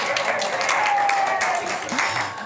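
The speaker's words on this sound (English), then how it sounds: "You can applaud for him." Congregation applauding the reverend at a Sunday morning service, steady dense clapping throughout with a faint tonal hum underneath.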